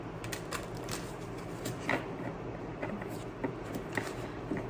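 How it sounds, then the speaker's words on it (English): Tarot cards being shuffled give soft, quick riffling and papery clicks in short bursts, close and fairly quiet over a low background hiss, with no one speaking. "I gotta shuffle again"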